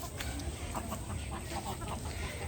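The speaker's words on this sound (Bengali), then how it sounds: "অনেকগুলো মুরগি একসাথে খেতে বসছে।" A flock of chickens clucks and murmurs while feeding, with soft overlapping calls and short sharp clucks over a steady low background rumble.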